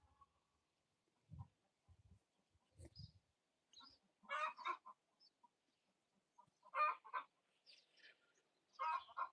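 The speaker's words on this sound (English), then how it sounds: "Oh yeah, they're going at it. The chickens." Chickens cluck and squawk in bursts outdoors, the calls moderately near and fairly loud, with quieter low thumps and scuffles early on and short gaps of near-silence between the louder volleys.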